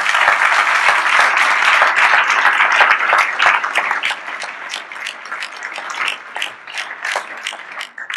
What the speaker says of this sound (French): Joseph Arakel qu'on peut applaudir pour son action